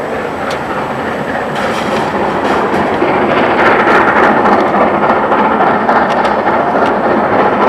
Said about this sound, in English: the same locomotive is seen with the returning train